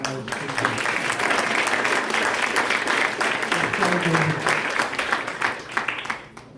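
A crowd claps and applauds steadily for several seconds, dense and continuous, then thins out toward the end.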